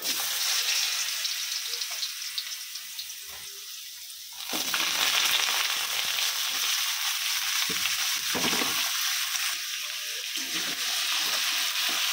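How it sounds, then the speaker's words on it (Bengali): Potato pieces sizzle loudly in hot oil in a pan, a constant bright crackle that briefly dips and swells as they are stirred, with no talking. "এই যে আলুটা ভাজা হচ্ছে"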